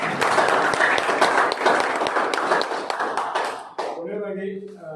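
Audience applause at a company stage event, a dense, steady patter of many hands clapping for several seconds before fading out as a voice begins speaking.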